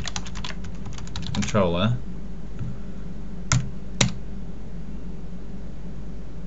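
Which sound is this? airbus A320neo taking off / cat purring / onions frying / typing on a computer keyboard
typing on a computer keyboard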